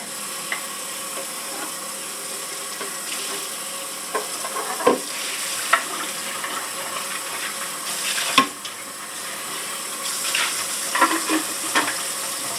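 A Nespresso coffee maker's removable water container is rinsed under a running tap, giving a steady, close hiss of flowing water with brief knocks and clatters of plastic throughout.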